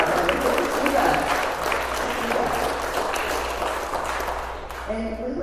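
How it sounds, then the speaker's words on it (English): Audience at a community town hall against hate breaks into sustained applause, a dense wash of many hands clapping with faint crowd murmur beneath, tapering slightly toward the end as a voice begins to speak. "Yeah, let's applaud that."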